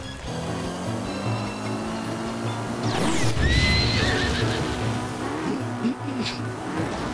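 Horses in the Zelda Breath of the Wild video game: a loud, close whinny rises midway over steady clip-clop hoofbeats and game sounds, with a fainter snort and neigh afterward.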